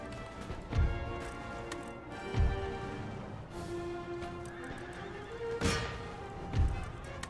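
Horses whinny repeatedly amid cavalry in the Empire Total War video game, several drawn-out neighs rising over battlefield ambience with dull hoof thumps in between, fairly quiet and with no speech.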